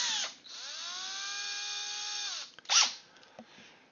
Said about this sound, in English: I'm just using a metal drill